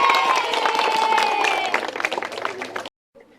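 Schoolchildren at a high school quiz show break into a dense burst of applause that runs for about three seconds at close range, mixed with a few voices, then cuts off abruptly.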